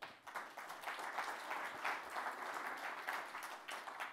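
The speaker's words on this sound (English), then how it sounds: "Clap if you like that story." An audience claps steadily throughout, a dense, continuous patter of many hands heard fairly close with no voices over it.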